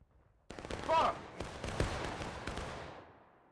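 Musket volley from a line of infantry in War of Rights, a sudden ragged crackle of many shots at once, then a few scattered follow-up reports fading into the distance, with a shouted command just before.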